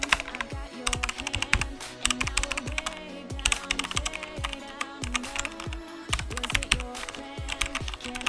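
Fast typing on a computer keyboard while entering a username and sign-up details, steady clicking keystrokes in quick runs with brief pauses, close and clear with no voices.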